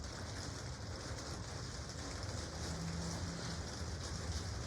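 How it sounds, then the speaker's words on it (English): Steady rain falling on a roof, a constant dense hiss with no voices. "It just started to rain, so I hope you can hear me over the rain on the roof."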